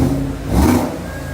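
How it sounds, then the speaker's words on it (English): A short, close engine rev from an Eleanor car at a collectors' weekend exotic car show, swelling briefly and easing back down. "Revving up the Eleanor there."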